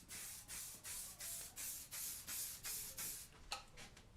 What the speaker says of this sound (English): I'm going to take the Max Hold hairspray and we're going to give it a solid base